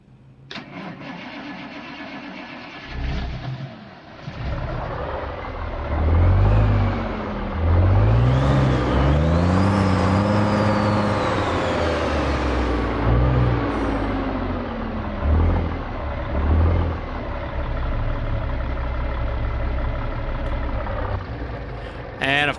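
A Big Cam Cummins engine in a truck from the American Truck Simulator game cranks and catches, then roars up through a few loud revs before settling into a heavy, steady idle, close and alone.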